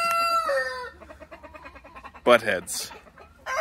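Chickens and roosters on a small farm with young chicks, a harmonic crow-like call opening the clip, then a rapid series of clucks and short squawks, with a louder squawk burst near the end and a voice briefly speaking.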